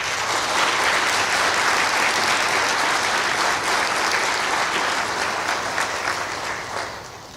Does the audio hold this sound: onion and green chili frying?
no